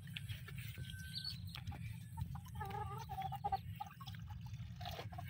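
Gamefowl chickens cluck and call in short bursts as water is set out for them on a game farm, over a steady low rumble of background noise, with no talking.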